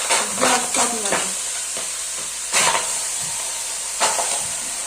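Chicken pieces hitting a hot cooking pot give bursts of loud sizzle and clatter at intervals, with a steady frying hiss continuing between them.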